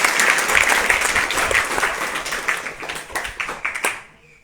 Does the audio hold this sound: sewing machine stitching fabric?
no